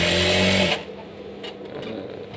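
A sewing machine runs in a loud, steady whir for under a second, then stops; faint room noise and light clicks follow.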